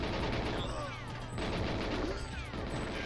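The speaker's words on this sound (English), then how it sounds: "Oh, you shot the scientist!" Gunfire erupts in the N64 game GoldenEye 007, a dense, continuous stream of shots and game noise with no pauses, moderately loud throughout.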